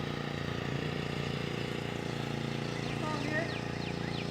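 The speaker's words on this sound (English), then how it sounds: "my guy's out mowing here at one of the houses that we do" An Exmark 30 lawn mower mowing grass at a house runs with a steady mid-pitched engine drone, continuous and moderately loud, with a voice talking over it.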